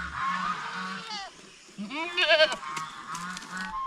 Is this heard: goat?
yes